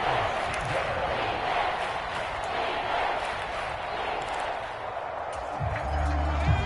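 A football stadium crowd at a Panthers game roars steadily as a big third down approaches, a dense, distant wash of cheering that fills the whole stretch and swells slightly near the end.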